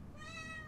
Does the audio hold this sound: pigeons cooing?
no